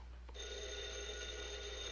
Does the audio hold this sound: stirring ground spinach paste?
no